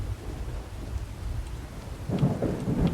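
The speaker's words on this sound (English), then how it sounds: "I like how it's sounding like it's raining" Rain and thunder in the video game Skyrim: a steady rain hiss with low rumbling, swelling into louder crackling bursts near the end like rolling thunder.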